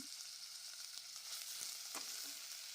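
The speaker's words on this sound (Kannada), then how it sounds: "ಟೊಮೊಟೊ ಸಾಫ್ಟ್ ಆಗೋ ತನಕ ಫ್ರೈ ಮಾಡ್ಕೊಳ್ಳೋಣ" Onions and tomatoes, salted, frying in a pan until soft, a steady quiet sizzle with a few soft stirring scrapes, close by and with no talk.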